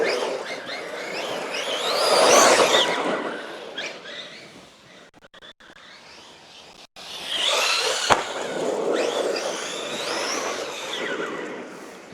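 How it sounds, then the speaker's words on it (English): A RedCat Valkyrie MT 4S RC monster truck drives in a park, its electric motor whining and revving with a rough rush of tyres on the ground, surging loud and then easing back. "Wicked little car for park bashing."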